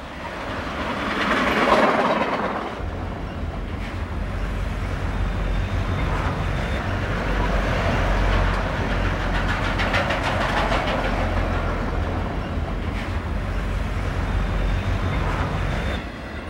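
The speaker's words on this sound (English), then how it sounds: "A good example of these hotshots is eastbound 991 as it sweeps by near Harlem Avenue." An eastbound American steam freight train sweeps past near Harlem Avenue, a loud rushing roar with rhythmic clickety-clack of wheels over rail joints, swelling close and holding for many seconds.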